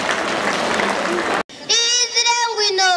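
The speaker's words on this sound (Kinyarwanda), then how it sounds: "Tubahe amashyi menshi n'impundu." At a Catholic cathedral parish school event in Ruhengeri, a crowd bursts into loud applause, which cuts off abruptly and gives way to high, wavering ululation trills held close and strong.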